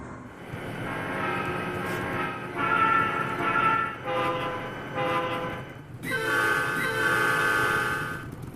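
A group of locomotives rolls out toward the shops, their horns sounding in several long blasts with short gaps over steady engine rumble and rail noise.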